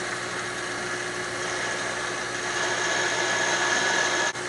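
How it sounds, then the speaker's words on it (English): A core drill bores a hole during valve train work on an M38 Go Devil engine, giving a steady, continuous grinding whine at constant loudness with a brief dip near the end. "I've got the core drill in"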